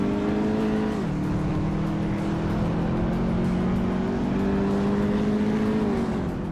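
Subaru Impreza WRX STI race cars in a racing video game drone loudly and steadily, engine pitch dipping once at a gear shift then climbing slowly, several cars blending into a continuous roar with no voices.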